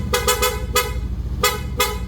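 A Honda big-bike motorcycle horn honks in short repeated blasts, two quick toots, a longer one, then two more, loud and close over a low idling engine.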